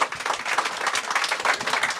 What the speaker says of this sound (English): Round of applause for our panelists, everyone.